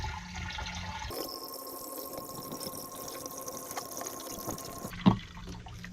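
Water pours and trickles into a Chapin backpack sprayer tank, rinsing Captan fungicide down inside; a steady close splashing fill runs through most of the stretch, ending with a brief thump.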